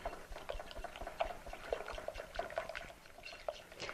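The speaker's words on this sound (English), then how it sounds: "I'm just going to whisk this together until it's nice and smooth and blended well." Egg, vanilla, spices and salt are whisked together in a bowl for pumpkin tartlet filling, giving soft, quick, rhythmic wet clicks and swishes that sound close but quiet.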